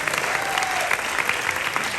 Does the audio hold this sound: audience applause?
yes